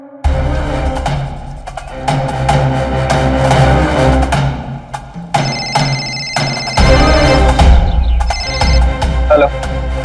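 A telephone rings with a loud melodic ringtone, repeating in bursts over about ten seconds with no talking.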